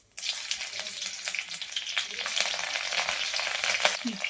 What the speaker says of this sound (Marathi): जिरा मोहरी चांगली तडतडली की यामध्ये मिरची टाकायची.